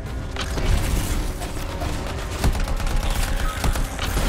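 Rapid bursts of automatic gunfire in the sci-fi shooter game Anthem, dense and continuous with a few heavier booms and metallic clatter, with no voices over it.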